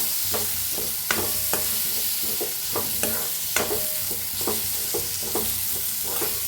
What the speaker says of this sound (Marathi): आता ह्याच्यातच टाकूयात टमाटर बी त्याला बी भाजून घेऊया